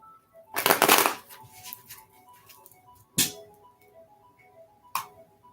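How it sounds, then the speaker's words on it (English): Deck of tarot-style reading cards being shuffled during a live reading, a loud riffling burst followed by two shorter card snaps, heard close over a faint steady tone in the background. "Let me shuffle the cards specifically good for you."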